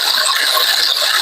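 A ratchet wrench turns quickly to release a snowmobile's clutch, giving a steady, fast run of close metallic clicks throughout a brief burst.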